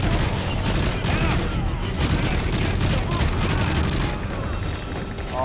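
Dense, loud gunfire in Call of Duty: Modern Warfare 3, rapid overlapping shots forming a continuous battle barrage that eases slightly toward the end.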